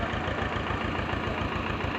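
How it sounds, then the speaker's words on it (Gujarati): A large tractor-driven pump sprays pesticide over a cumin field, giving a steady, close engine drone with a fast low pulsing throb and no break across the short stretch. "જે મોટો પંપ છે ટ્રેક્ટર દ્વારા સ્પ્રે કરી રહ્યા છે"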